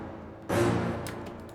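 Two hits layered into one mighty impact in an FL Studio beat: a single loud, broad boom that swells and slowly fades, followed by faint ticking hats.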